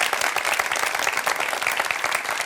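A crowd at a talk claps loudly in an audience round of applause, close and dense with a quick uneven patter of many hands that holds steady throughout.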